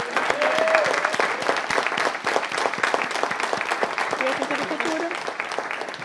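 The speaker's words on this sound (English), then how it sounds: "Everyone, please give him a round of applause." Council meeting attendees give a round of applause for an honoree retiring after 47 years, a sustained and moderately close burst of clapping with murmured voices and a few calls underneath.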